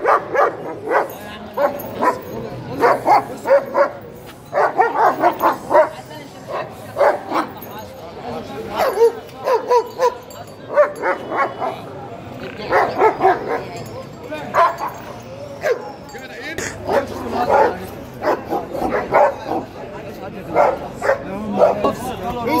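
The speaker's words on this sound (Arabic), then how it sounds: "كلب جيرمان على مارينو زي ما انتم شايفين" A German shepherd and Malinois mix dog barking repeatedly in a busy market, loud and close, in bursts mixed with yips and whimpers, while people talk alongside.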